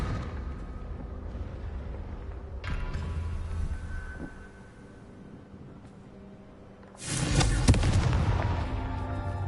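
A Confringo fire spell from Hogwarts Legacy bursts in a loud, broad explosive whoosh near the end, following a lower rumbling stretch of game ambience and effects.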